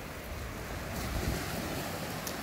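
Sea waves wash onto a beach in the early morning, a steady broadband surf roar with a soft swell in the middle, slightly windy and with no voices.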